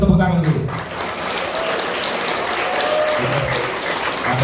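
An alumni reunion crowd of a junior high school claps steadily for the event organisers, a full, even patter of applause lasting several seconds in a reverberant hall.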